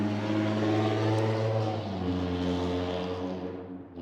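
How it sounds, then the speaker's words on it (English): A loud car with a rough, throbbing engine drives past close by, its steady low drone swelling and then fading as it moves away, with no talking. "This dude is a loud-ass car."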